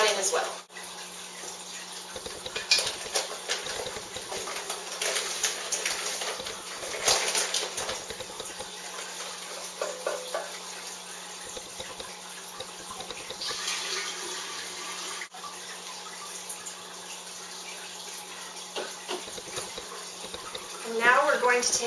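Grape juice pours from a pack into a wine fermenting bucket, making a steady liquid splash that runs continuously for about twenty seconds, with some uneven gurgles and surges along the way.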